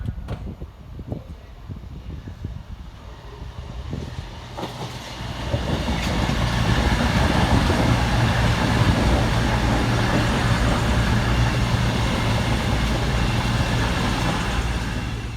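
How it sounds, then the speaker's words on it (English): A CrossCountry class 221 diesel train, unit 221-121 on a Plymouth to Edinburgh Waverley service, arrives at Durham station: quieter rumble at first, then a loud, steady engine roar and rolling wheel noise from about six seconds on, close by, with no talk. "Up next, arriving for CrossCountry 22 minutes late, is 221-121, working the 1217 CrossCountry service from Plymouth through to Edinburgh Waverley."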